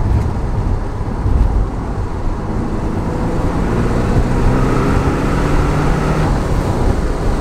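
A 35-year-old Porsche 944 Turbo accelerates flat out from around 2000 rpm, its loud, continuous engine and road roar swelling steadily with a slowly climbing pitch across the pull.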